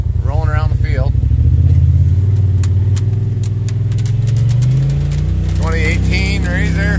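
A 2018 Polaris RZR Turbo off-road side-by-side engine runs loud and close, with a low throbbing idle that rises into revving and then settles again, pulling a sled in snow. Brief voices and squeaky sounds appear at the start and end.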